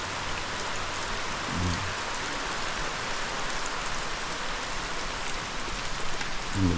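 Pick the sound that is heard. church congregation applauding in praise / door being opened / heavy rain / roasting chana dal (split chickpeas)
heavy rain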